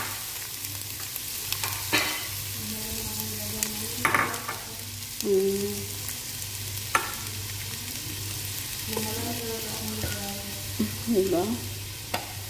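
Chopped onion hits a hot pan and fries with a steady sizzle while it is stirred now and then. Short scraping stir strokes rise over the crackle every few seconds, and a low hum runs underneath throughout.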